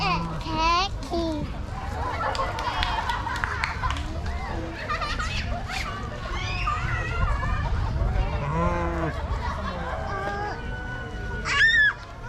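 At Pattaya Sheep Farm, sheep, including a black sheep, bleat repeatedly amid a busy crowd as children and adults chatter throughout.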